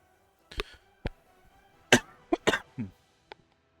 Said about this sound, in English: I'm sorry if I'll be coughing a bit.